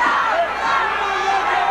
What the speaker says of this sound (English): And this crowd is really into this one.